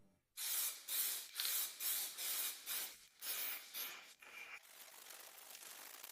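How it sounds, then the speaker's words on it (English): Spray paint hissing onto a Citroën Ami car body in a series of loud bursts roughly half a second apart, each ending in a short pause, then trailing into a softer, steady hiss. "let me put you on a tripod, and I'll just start spraying"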